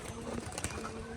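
A pigeon coos softly nearby in a short low murmuring call over faint background noise.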